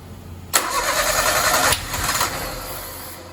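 A John Deere 322 lawn tractor engine started on starter fluid cranks and catches with a sudden burst, then runs roughly for about a second and a half before fading into a weaker sputter, close and loud, with no talk.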